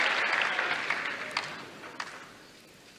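Wimbledon 2022 tennis crowd applauding during a women's singles match, a steady wash of clapping that slowly thins and fades over a few seconds, with scattered louder claps standing out.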